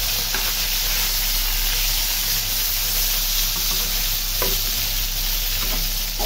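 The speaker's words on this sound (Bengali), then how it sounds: "পাঙ্গাস মাছের কি অবস্থা দেখি," Pieces of pangasius fish fry in a pan with a steady, close sizzle and crackle, occasional brief pops and stirring sounds rising over the constant hiss.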